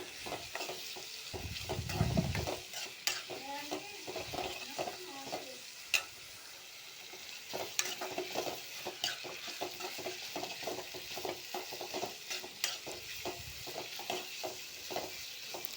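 Curry leaves, crushed garlic and ginger are sautéed in a pan, making a low steady sizzle with frequent scraping strokes of a spoon and an occasional light clink. The sound is close but quiet, and no one speaks.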